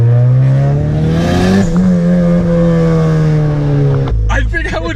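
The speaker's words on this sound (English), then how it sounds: "I think I would get a turbo just for the noises." A turbocharged Honda Civic Si pulls hard, its engine note rising loud and close, then easing off before a burst of turbo whoosh and flutter near the end.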